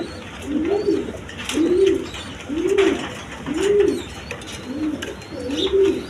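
Pigeons coo close by in a steady rhythm, about six soft throaty phrases spaced roughly a second apart, over faint background chatter and noise.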